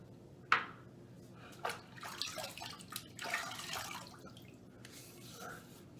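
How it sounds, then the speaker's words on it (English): Water splashed onto the face by hand before a wet shave, a few close, brief splashes and drips from a running tap separated by short pauses, no talk. "Let me wet the face."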